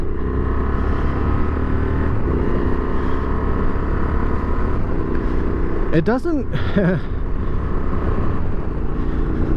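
Honda Transalp 750 motorcycle engine running steadily while riding on and off road, a constant low drone with wind rush throughout, and a rider talking over it.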